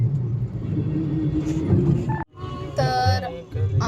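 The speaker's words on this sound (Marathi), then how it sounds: "मी अजूनपर्यंत ट्रॅफिक मध्येच आहे बघू शकता तुम्ही" Road traffic in Kashimira rumbles around a car, a steady loud drone with a brief drop midway, then engine and horn-like tones rising again.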